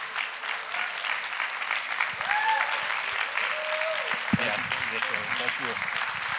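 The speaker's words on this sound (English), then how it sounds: "let's give one more round of applause" Congregation applauding at a church revival service as the guest speaker is welcomed, a broad wash of clapping from a large crowd, with voices and a few tonal sounds rising over it partway through.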